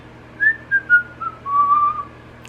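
A person whistles a short wavering melody, several clear notes, then a longer held tone, close and alone over faint background hum.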